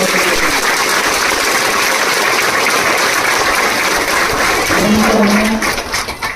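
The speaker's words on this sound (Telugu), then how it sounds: "ఒకసారి అందరూ గట్టిగా ఆచార్యులు కూడా చప్పట్లు కొట్టవలసిందిగా" A large audience claps loudly and continuously at a Telugu devotional gathering with a swami and priests, a dense, sustained wash of applause that tapers off near the end.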